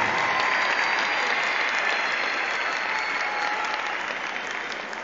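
Sustained audience applause at a memorial program in Turkey, a dense, steady wash of many hands clapping that fills the space and tapers slightly toward the end.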